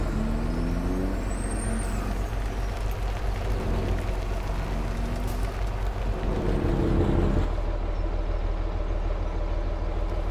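A truck on a farm in a farming simulator, its engine rumbling steadily up close while air brakes hiss in short bursts, with a louder surge near the end.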